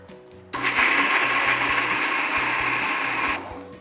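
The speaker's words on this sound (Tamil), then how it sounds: "இப்போ அதுக்கு தேவையான தண்ணியை ஊற்றி நம்ம அரைக்க வேண்டியது தான்." Kitchen mixer grinder whirring loudly as it grinds coconut chutney with water and ginger, starting abruptly after a quiet moment, holding a steady buzzing roar for about three seconds, then winding down.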